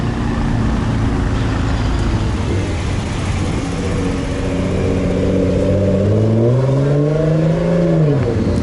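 A Rolls-Royce Ghost drives past on a city street, its engine rising in a smooth swelling drone that climbs in pitch as it nears and passes, loud and close, with no talk.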